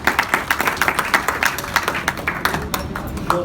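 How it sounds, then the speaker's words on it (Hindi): Audience applause after a leader is introduced at a network marketing leadership event in Haridwar, a steady patter of many hands clapping at close to moderate distance, with faint voices underneath. "तो एक जोरदार तालियां सुशील कुमार जी के लिए।"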